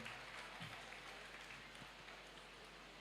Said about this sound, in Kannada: ಗಜಾನನ ಹೆಗಡೆ ಅವರಿಗೆ ನಮ್ಮೆಲ್ಲರ ಜೋರಾದ ಚಪ್ಪಾಳೆ.